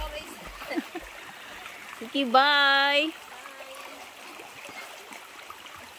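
River water flows steadily in the background while clothes are washed outdoors in a rural province, with people talking nearby and a brief tonal voice-like sound cutting through the middle.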